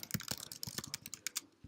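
Quick burst of typing on a computer keyboard while writing in a Jupyter notebook, about a dozen crisp, close key clicks in rapid, uneven rhythm.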